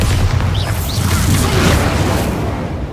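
A sustained booming blast from the Bombarda spell in Hogwarts Legacy, a dense roaring explosion with whooshing debris that stays loud through the whole moment.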